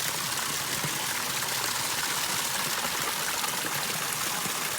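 Steady, close rush of water from a waterfall spilling into a garden pond in a mountain garden, a dense continuous splashing that fills the whole stretch with no voices.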